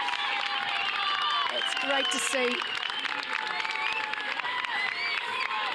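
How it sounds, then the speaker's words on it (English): Fans at the Gold Coast T100 triathlon applaud and cheer steadily, a dense wash of clapping and whoops from a large roadside crowd, with a commentator talking over it throughout. "She's rightly taking the applause of all of the fans that have come out today to support this race."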